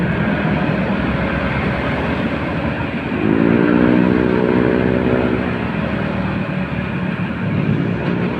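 A motorcycle without a license plate rides past in a busy motorcycle lane on Commonwealth Avenue, its engine droning loudly and rising to a buzzing peak mid-way amid steady traffic roar.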